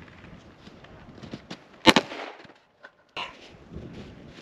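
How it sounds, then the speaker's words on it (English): A handgun fires a quick double shot at a target block at close range, one sharp loud crack followed by a brief echoing tail, with faint scuffs and a voice around it. "I'm going to try to shoot the block twice really quickly on a double shot technique."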